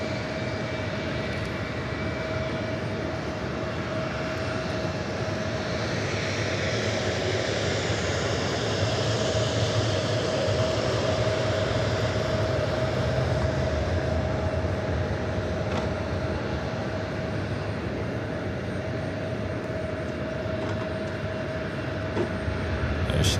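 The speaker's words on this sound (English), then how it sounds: "Right here, clear for takeoff, runway 19" A United airliner takes off from runway 19 at LAX, its jet engines a loud, steady roar that builds slightly and holds throughout, with no voices over it.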